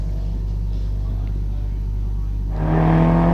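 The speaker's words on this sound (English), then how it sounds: "Now we're cutting into the onboard of Kevin Mackerel in that absolute monster of a Datsun" Onboard a heavily modified Datsun race car on a hillclimb, a low steady engine drone that rises into a louder, higher revving surge in the last second.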